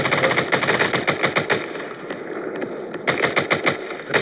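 Rapid bursts of gunfire from a Nakamoto Games shooter video game rattle in quick repeated volleys, loud and close, with a short lull in the middle before firing resumes.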